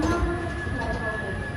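A Kacheguda–Mangaluru weekly superfast express pulls out of Kannur station, a steady loud rumble of carriages with a sustained high tone overhead, heard from on board, with voices faintly present.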